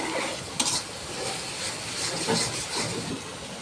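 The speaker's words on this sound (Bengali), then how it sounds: "এভাবেই মশলাটা পাঁচ মিনিটের মতো কষিয়ে নিতে হবে" Spice paste for a desi chicken curry sautéed in a pan, giving a steady sizzling hiss with scraping stirring strokes, close and continuous with no talking.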